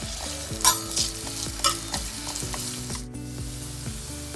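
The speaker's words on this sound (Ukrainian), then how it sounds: "Для початку ми обсмажуємо цибулю до золотистого кольору." Onions frying in a pan until golden, with steady close sizzling and occasional stirring clicks of a utensil throughout, no voices.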